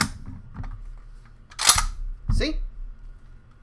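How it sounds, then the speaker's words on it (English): An M1 Carbine 30-round magazine is pulled out with a sharp metallic click and a second scraping clack, both close, amid quiet room tone and faint speech. "And I just pulled out the magazine right there."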